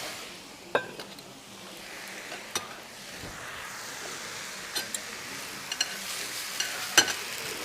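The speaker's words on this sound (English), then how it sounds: "Give it a good stir." Spinach and noodles stirred through sauce in a sizzling wok for Korean-style noodles, a steady close fry with scattered clinks and scrapes of the utensil against the pan.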